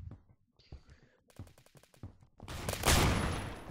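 Shotgun blast in the Roblox shooter Phantom Forces, a loud close boom with a rushing decay after quieter clicking and handling sounds, with low voices murmuring briefly before the shot.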